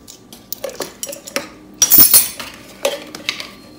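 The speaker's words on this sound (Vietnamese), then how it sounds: "Bây giờ mình cho 2 muỗng teaspoon vào cái bột này luôn. 1 muỗng, 2 muỗng." A metal teaspoon clinks against a bowl while two spoonfuls of baking powder go into meat-paste flour, producing sharp scattered taps and chinks with one louder clattering knock midway, close and without speech.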